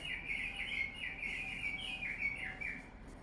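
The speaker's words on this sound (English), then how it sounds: "House wren likes to make a lot of noise." A house wren sings a continuous, bubbling run of rapid high trills and chatters over a low, steady background hum.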